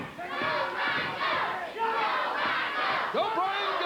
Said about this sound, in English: The fans cheering here in the USWA.